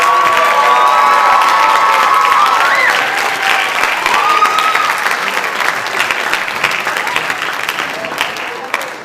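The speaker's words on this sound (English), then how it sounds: "can we have one more round of applause for both of our jazz bands?" A school spring concert audience gives a big round of applause with cheering for two jazz bands, loud and dense at first and then tapering slightly, with a few voices calling out over the clapping.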